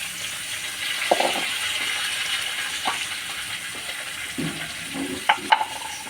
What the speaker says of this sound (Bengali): লাউগুলো আমি সব কড়াইয়ে দিয়ে দেবো।